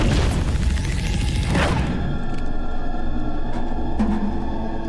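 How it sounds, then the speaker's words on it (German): A thrown object explodes in The Callisto Protocol, a loud booming blast that rolls out over the first two seconds and then decays into rumbling ambience with scattered faint clicks. "Oh, das explodiert auch so beim Schmeißen."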